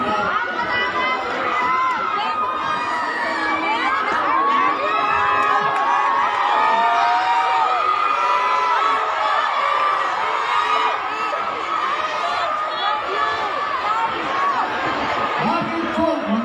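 A large crowd at an outdoor political rally in Marikina cheers, shouts and chatters continuously, a dense, loud wash of voices with whoops and children's shouts, sustained throughout.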